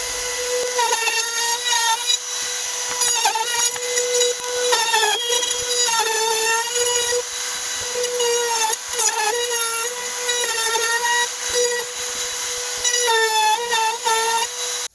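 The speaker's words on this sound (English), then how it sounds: "now what we're going to do is take the router again, and we're going to trim out all around and round it off" A wood router trims and rounds the edges of a wooden display case, a loud continuous high whine that dips and rises as the bit bites into the wood, steady for the whole stretch.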